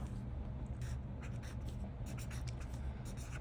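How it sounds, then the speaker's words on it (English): Pen scratching steadily across the paper of a Hobonichi Cousin journal, writing a greeting in faded pink ink; soft, continuous strokes with small bursts, close and quiet, no voices. "grab this pink, the super faded pink, and write Happy Lunar New Year"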